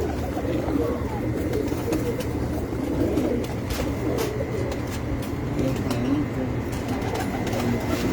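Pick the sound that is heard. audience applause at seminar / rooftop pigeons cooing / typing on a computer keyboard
rooftop pigeons cooing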